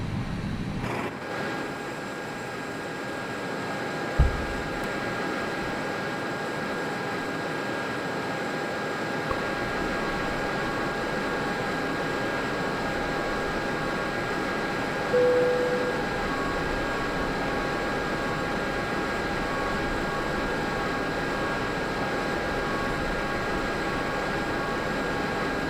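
Steady low cabin drone of an airliner taxiing toward the runway holding point at Taiwan Taoyuan International Airport, a continuous engine and rolling hum with faint tonal whine and a brief thump, no talk.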